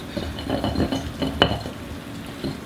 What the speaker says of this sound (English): I'm going to put a little more oil in there, and we're going to stir this around a bit